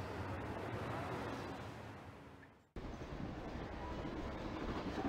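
Railway station ambience in a heat wave, from a video game: a steady broadband rumble of a train and station hum that cuts out abruptly midway, then resumes at a similar level, with no voices.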